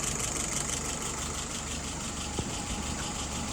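Engine of a WO 636SA idling steadily at around 660 RPM, a constant low rumble with a faint repeating pulse, close and alone without talk.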